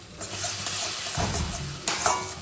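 Bhola fish curry with mustard-poppy seed paste cooks in a pan, a steady close sizzle with stirring scrapes and a couple of sharper clinks near the end, no talk.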